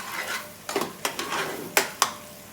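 Baby potatoes for Bombay aloo fry in a pan over medium heat, a soft sizzle broken by several sharp stirring scrapes and clinks of a utensil against the pan, with no voices.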